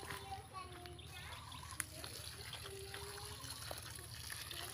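Water pours and trickles steadily from a hose or can onto string bean plants in a vegetable garden in the Philippines, with a constant low hum and faint voices in the background.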